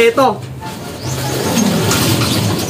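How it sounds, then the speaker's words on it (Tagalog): Pigeons coo inside a stocked pigeon loft, low soft repeated calls close by, partly under someone speaking. "Pero ito yung napakagandang kalapati na niregalo sa akin ni Sir Brairo."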